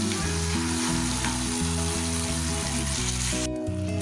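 Oil, ketchup and chili garlic sauce sizzle in a pan as they are mixed, a dense steady hiss under a looping background melody that shifts near the end.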